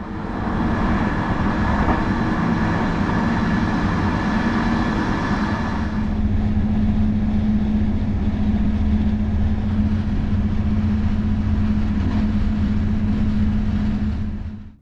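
Steady rumble of a train rolling along rails, continuous and loud, with a hum that shifts in tone partway through.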